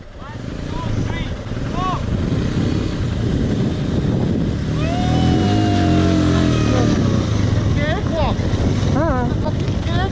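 Bajaj Dominar motorcycle on an off-road ride, its engine droning steadily and loudly throughout with rising revs, heavy wind buffeting the microphone and occasional people talking faintly over the ride.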